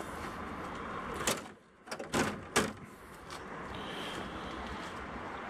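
Closing the engine cover on a 2010 Volvo FH 420 truck makes a few close sliding thumps and rattles in quick succession, then a low steady ambient hum, with no talk.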